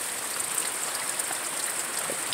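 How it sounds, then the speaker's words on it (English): Heavy rain pours down steadily during a thunderstorm, a dense, continuous hiss of falling water with no pauses and no voices. "You know it's really pouring down rain when it blocks the view of lightning."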